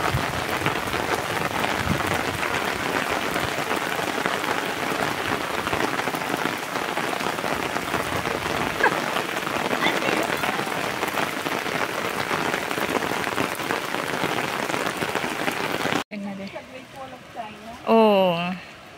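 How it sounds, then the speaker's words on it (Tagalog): Heavy rain pours steadily at Tai Tam Reservoir, a dense hiss of drops on surfaces, cutting off near the end, where a voice speaks briefly. "Ang lakas ng ulan."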